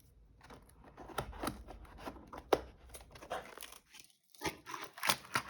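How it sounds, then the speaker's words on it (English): Close, quiet snips and crinkles as scissors cut open a shipping package, irregular crunchy bursts separated by short gaps of near silence. "It's coming open. The magic of having scissors."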